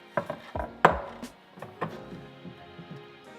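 A knife chops through a watermelon set under a bowl turned upside down on a wooden cutting board, giving a string of sharp, close thunks and knocks that spread out and fade toward the end.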